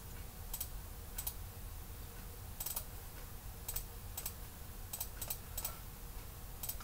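Computer keyboard keys tapped in short bursts during CATIA part design work, quick clusters of crisp clicks repeating every second or so over a low room hum.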